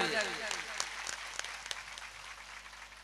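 A crowd at a Bhagavat Katha religious discourse in an ashram at Pachhegam breaks into quiet, distant applause after a brief voice at the start, the clapping scattered and fading toward the end.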